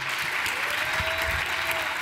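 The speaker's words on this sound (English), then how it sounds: "And one more huge round of applause for Juana" An audience claps steadily in a dense, even round of applause at a conference keynote that continues throughout without letting up.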